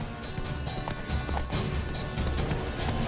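Roach the horse in The Witcher 3 video game clip-clops at a steady trot with a whinny mixed in, moderately loud over a dense game soundscape.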